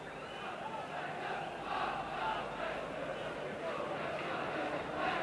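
A Sunderland football crowd at a 1991/92 Division 2 home match against Leicester City keeps up a steady distant roar and chatter, a broad wash of voices under commentary.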